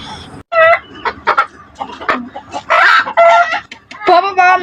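A chicken clucks and crows in a lively, repeated run of loud calls close by, with short pauses between bursts and no speech.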